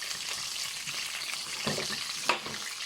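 Tomato, ginger, garlic and onion fry in a pan with a soft, steady sizzle, faint and continuous, broken by a few brief stirring scrapes.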